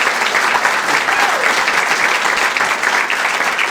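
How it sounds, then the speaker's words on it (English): Audience applause at the KKB Summit 2026 in Knoxville, dense and loud clapping from a crowd held steady throughout without a break. "So can we give a round of applause?"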